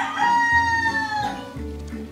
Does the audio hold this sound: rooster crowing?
yes